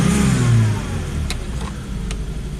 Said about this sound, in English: We'll rev it up